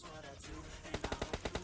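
Automatic gunfire rattles out in a rapid burst of about nine evenly spaced shots as an enemy is knocked down in the PUBG Lite video game, following a busier mix of game sounds.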